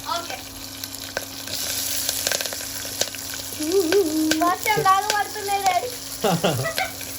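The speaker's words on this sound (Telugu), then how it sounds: "ఓకే, దాని తర్వాత ఆనియన్స్ వేస్తున్నాం" Chopped onions tossed into hot oil in a home kitchen pan, giving a steady close sizzle with scraping stirs, while a voice and a few tonal beeps sound over it partway through.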